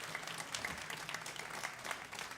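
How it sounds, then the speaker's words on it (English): A DreamHack StarCraft crowd gives dense, continuous applause with a faint cheering edge, heard at a distance, steady and unbroken for a couple of seconds. "Please make some noise for your Korean star."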